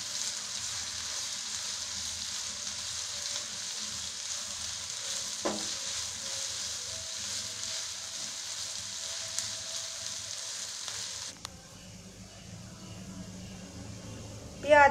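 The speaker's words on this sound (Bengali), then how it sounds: "এইভাবে পেঁয়াজটাকে ভালো করে ভাজতে থাকি।" Chopped onion fries in a pan for sorshe potol, a soft, continuous sizzle and crackle that stays fairly quiet and even throughout, with a brief clatter near the end and speech nearby.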